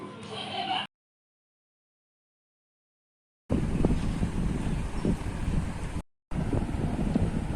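Gusty wind buffets the microphone in loud, rough bursts, broken by a few moments of silence.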